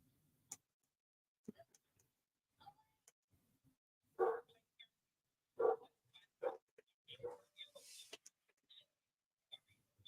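A neighbour's dog two houses away barks a few times at a distance, sharp yelps scattered across a quiet background with some faint speech.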